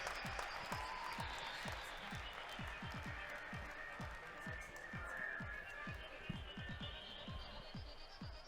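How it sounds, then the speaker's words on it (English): Audience applauding masters indoor rowing athletes at the 2019 World Rowing Indoor Championships in Long Beach's Pyramid arena, a steady dense clapping wash with irregular low thumps running underneath throughout. "can I have one last round of applause for all these superstar athletes"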